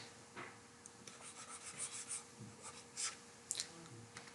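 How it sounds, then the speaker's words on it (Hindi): Marker or chalk writing on a classroom board during a Hindi-language English grammar lesson, a run of soft scratchy strokes and taps, close and quiet, with no talking. "एक बार साफ से यहाँ लिख देता हूँ"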